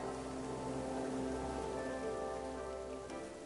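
Steady rain patters down in the video game Infinity Nikki, a dense continuous hiss mixed with sustained musical tones, moderately quiet and without talk.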